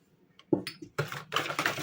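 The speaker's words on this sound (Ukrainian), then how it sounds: "Знову перемішую." Spoon clinks and scrapes in a bowl while oatmeal cookie batter is stirred with egg, sugar, cinnamon, salt and baking powder, close bursts of scraping after a few isolated taps.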